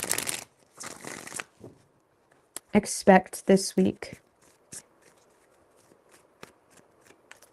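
Tarot cards being shuffled in several quick riffling bursts, close up, with a person speaking briefly before the shuffling begins.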